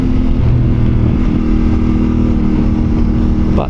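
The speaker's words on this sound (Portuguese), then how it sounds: "Este som de escape está porreiro" Exhaust note of a CFMoto 450 MT adventure motorcycle while riding, a loud, steady engine drone with a slight rise in pitch near the end, heard up close without speech.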